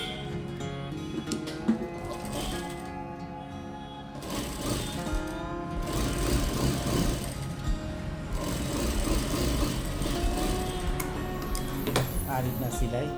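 A sewing machine stitches fabric for a salwar, whirring in a rapid mechanical patter under someone speaking nearby, running continuously with slight changes in pace.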